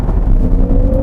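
Jaguar I-Pace electric car accelerating in dynamic mode, a loud, deep, continuous synthetic drive hum with a tone that rises steadily over a brief moment.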